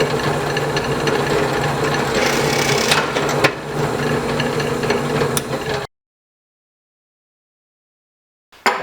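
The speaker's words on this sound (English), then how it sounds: "I need to drill some holes for the carriage bolts to go through." A power drill bores holes through wood for carriage bolts, a loud, continuous whirring grind close by for several seconds, then silence before a brief return of sound.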